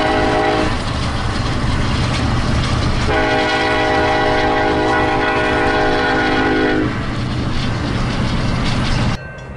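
Norfolk Southern freight train 377, led by an Illinois Terminal heritage unit, rolls past loud and close with a steady rumble of wheels and cars; the horn sounds in a long sustained blast midway.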